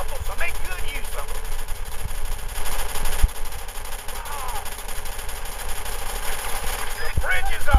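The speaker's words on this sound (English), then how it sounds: "These MG nests are pretty darn powerful, so make good use of them." A machine gun nest firing in the Battalion Wars video game, a steady rattling stream of shots under continuous game noise, with a voice talking over it.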